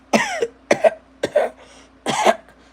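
Four sharp coughs come close together, each short and harsh with a quick gap between them, loud and up close.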